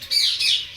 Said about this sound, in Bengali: দেখো টিয়া পাখির মতো লাগছে।